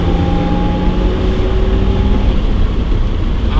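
An old classic BMW straight-six engine runs at a steady, loud idle with a deep, even grunt and a smooth low hum, close by with no voices.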